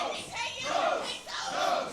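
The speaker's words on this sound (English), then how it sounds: "As the crowd here at Johnny and June's are in full support of El Blanco Gordito." A wrestling crowd at an indie show at Johnny and June's shouts and cheers in two loud swelling waves, a dense roar of many voices close around the ring.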